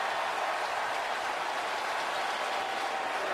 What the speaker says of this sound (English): Crowd noise is bothering Kaepernick.